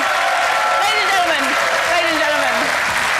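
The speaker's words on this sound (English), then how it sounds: "Big round of applause, please, for Julian." A crowd applauds an inventor named Julian and his cycler at a live idea showcase, a dense, steady wash of clapping that holds loud throughout, with voices calling out over it.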